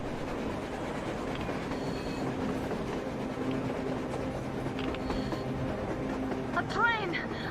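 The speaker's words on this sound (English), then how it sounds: "A train! A damn train on the surface!" A train in the Metro Exodus video game rumbles steadily along the rails, with rhythmic clatter and a short wheel squeal near the end. Voices talk over it.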